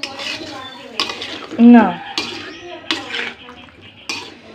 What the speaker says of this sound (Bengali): মশলাটা কষিয়ে নিয়ে বেগুনটা দিয়ে দিলাম,